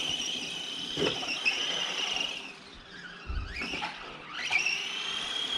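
An Arrma Granite Mega brushless 2S RC car with a 14T pinion and 2000kv motor whines at high pitch as it drives, the electric motor sweeping up and down with bursts of acceleration and a few thumps from bouncing.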